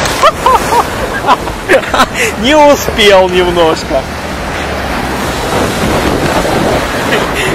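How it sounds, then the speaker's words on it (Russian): Stormy February sea at Sudak, Crimea, waves crashing against a barrier: a heavy surging roar with a loud impact near the start, spray and wind noise continuing, a voice speaking briefly over it. "Вот такие, смотрите, какие бьют волны."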